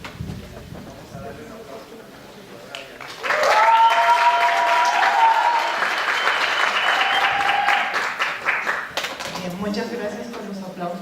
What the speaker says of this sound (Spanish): Muchas gracias por los aplausos, que los necesito.